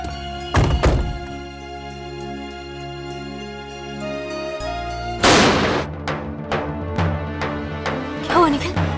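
At night, a frightening loud noise: a few hard, booming thuds and then a burst of sharp, cracking impacts, loud and close over a low musical drone, with people speaking in between.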